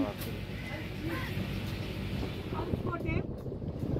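A houseboat cruises the Alleppey backwaters in Kerala, its steady low engine rumble running throughout under wind buffeting the microphone, with faint voices in the background.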